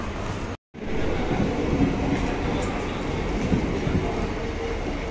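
Passenger train rolling along the rails, a loud steady rumble with rhythmic clatter and broadband rushing noise close by, briefly cut out near the start, then continuing unbroken to the end.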